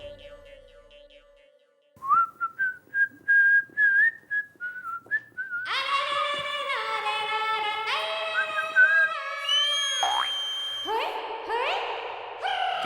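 A man whistles a series of short melodic phrases, nearby and loud, using the whistle as a way of talking. Brief whistles come first, then longer sustained tones and a rising and falling call, with no speech during it.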